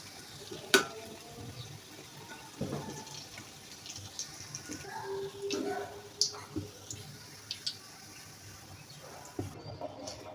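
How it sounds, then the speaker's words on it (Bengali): Lentil fritters frying in oil make a faint, steady crackle and bubble with scattered sharp pops and occasional clinks of a utensil. "এভাবে আমি বাকিগুলো ভেজে নিব।"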